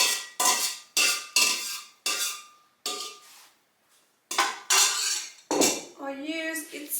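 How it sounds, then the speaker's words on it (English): Metal spoon scraping and clinking against a bowl and measuring jug while homemade yogurt is transferred, a run of sharp repeated clinks and scrapes with brief pauses, close and fairly loud, no talking. "now I'm going to transfer the rest to this measuring jug"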